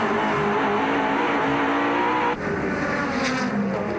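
Dick Johnson's number 17 touring car races at Lakeside in the 1993 Australian Touring Car Championship, its engine roaring loud and steady up close, with a brief dip in pitch partway through before it howls on.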